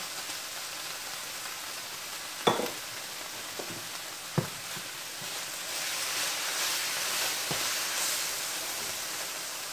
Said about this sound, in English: So now add the manwich.